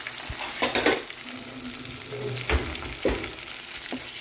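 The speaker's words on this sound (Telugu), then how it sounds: "ఇక మెంతి మంచిగా ఫ్రై అయితే కమ్మటి ఫ్లేవర్ వస్తుంది." Fenugreek leaves and turmeric fry in a pan with a soft, steady sizzle, broken by a few sharp scrapes and taps of a stirring spoon against the metal.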